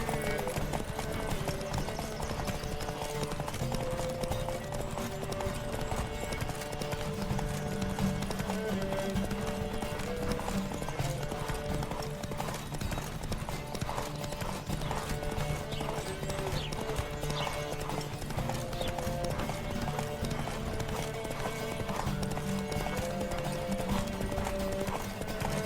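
Hooves of a galloping horse in The Witcher 3 drum in a fast, steady clip-clop that runs throughout, close and prominent over a busy game soundscape of background music and ambience.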